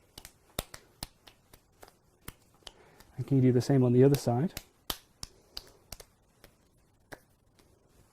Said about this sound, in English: I want you to clap, but each time you clap,